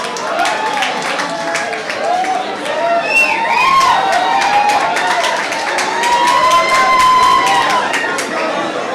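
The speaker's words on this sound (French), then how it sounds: "On l'applaudit très fort s'il vous plaît, Matina de l'Ouganda." A large crowd at a beauty pageant claps and cheers continuously, with excited voices and whoops rising over the steady applause.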